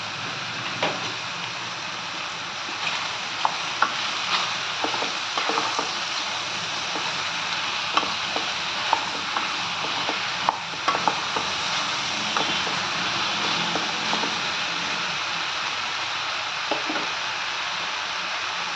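Ridge gourd curry simmers in a pan with a steady soft sizzle, and scattered light clicks and scrapes from stirring come through over about nineteen seconds without any talk.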